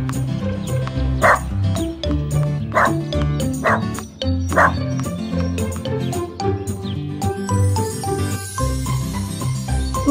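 A cartoon dog barks and yips several times in short bursts over bright background music, close and clear, with no talking.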